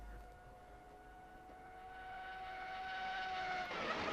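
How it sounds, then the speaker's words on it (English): Red Bull RB9 Formula 1 car's high-revving engine in the Assetto Corsa racing game, a sustained tonal engine whine rising steadily in pitch and loudness, heard alone without voices. "Just letting you hear the noise of the Formula 1 car."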